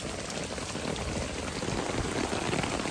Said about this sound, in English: a flash storm came out of nowhere and was downpouring on me